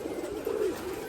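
Pigeons cooing in a loft, a single low, soft coo rising briefly over a quiet background.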